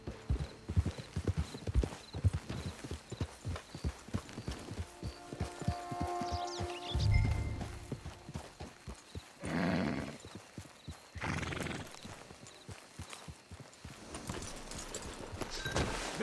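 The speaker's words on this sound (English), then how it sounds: "It's your horse." Close, steady clip-clop of horse hooves walking in the video game Red Dead Redemption 2, with a horse whinnying and snorting partway through over soft ambient sound.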